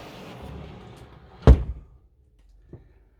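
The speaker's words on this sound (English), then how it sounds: "close the door" The sliding door of the changing room in a 2022 Carthago Chic C-Line I 9 XL QB motorhome rolls shut with a loud thud up close, followed by a short rattle and a small click as things go quiet.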